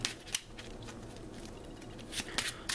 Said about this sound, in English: Just going to do a quick shuffle of the encounter deck